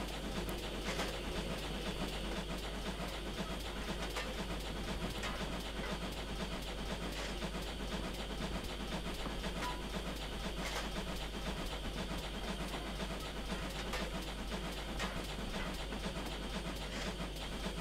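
A GWR 4575 class steam locomotive in Train Simulator runs on the West Somerset Railway, with a steady low rumble and hiss of the engine rolling along, faint and continuous with occasional soft clanks.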